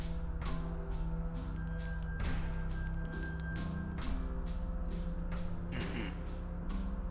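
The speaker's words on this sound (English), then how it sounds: "I will ring the bell." A bell rung by a streamer during a late-night chat stream: a bright, sustained metallic ring with shimmering high overtones that holds for a few seconds over a steady background hum, with soft clicks around it.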